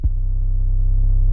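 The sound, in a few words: soft 808 bass with a long tail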